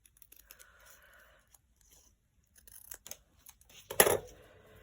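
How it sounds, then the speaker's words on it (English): Scissors snipping paper collage shapes, a few quiet, sparse cuts and rustles, then a louder crisp snip near the end in an otherwise hushed room. "I can cut around them"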